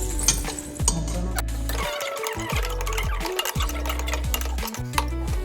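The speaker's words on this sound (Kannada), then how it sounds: "ಅದೇ ಪ್ಯಾನ್ಗೆ ಕಟ್ ಮಾಡ್ಕೊಂಡಿರುವ ಪಿಸ್ತಾವನ್ನು ಕೂಡ ಹಾಕಿ ರೋಸ್ಟ್ ಮಾಡ್ಕೊಳ್ತಾ ಇದ್ದೀನಿ." Chopped pistachios roasting in a pan, with repeated scraping, stirring and light metallic clinks of a utensil against the pan in an uneven rhythm, close and without talk.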